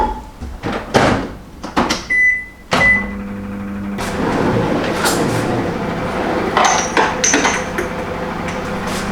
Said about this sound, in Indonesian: Microwave sebentar.